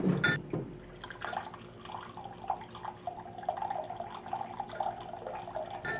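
Filtered water is poured into a pot in a kitchen, a soft, steady trickle and splashing running quietly for several seconds after an initial louder splash.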